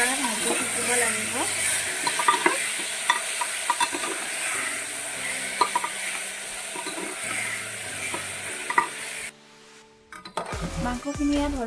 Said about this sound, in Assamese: মাংসখিনি এতিয়া ভালদৰে ভাজি ল'ম।